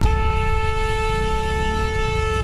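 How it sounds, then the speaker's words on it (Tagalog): A car horn from an SUV honks at a motorcycle rider on a road, a steady sustained blare held for the full stretch over low traffic rumble. "Napilitan tuloy na magmenor ang rider na binusinahan din ng SUV."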